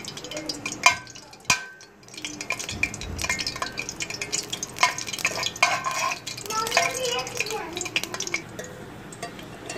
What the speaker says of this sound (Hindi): देखिए, हमारा घी गर्म हो चुका है। अब हम इसमें इलायचियाँ शामिल कर देंगे।